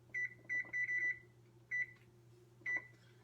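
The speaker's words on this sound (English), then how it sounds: "I'm going to put a timer on here for 30 minutes so I can check it then" A microwave's keypad is pressed to set a 30-minute timer, giving a run of crisp electronic beeps: four quick ones, a pause, then two more spaced apart over a low steady hum.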